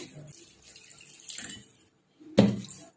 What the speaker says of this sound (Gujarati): એને આપણે પાણી એડ કરી સરસ એને ધોઈ લેવાની છે